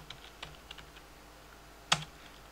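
Scattered light keystrokes on a computer keyboard while entering a short line of text in a Linux server terminal, soft taps with one sharper key hit near the end, quiet and alone.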